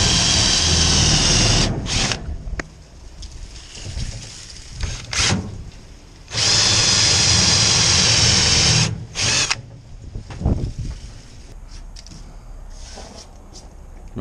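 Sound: drilling a mark with a high-speed twist drill bit

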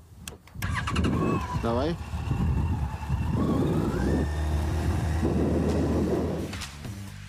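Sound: Yamaha FJR 1300 motorcycle engine starting

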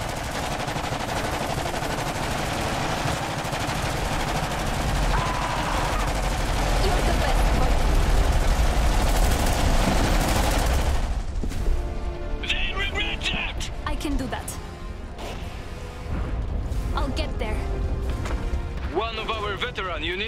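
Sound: suppressive gunfire in the video game Iron Harvest 1920+

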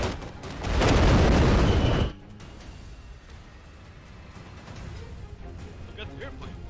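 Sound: artillery gun firing in the video game Iron Conflict

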